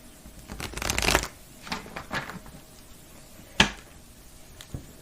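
Tarot cards shuffled by hand, a dense riffling burst near the start, softer flurries after, then two sharp isolated snaps, close and fairly quiet.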